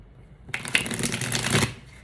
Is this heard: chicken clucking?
no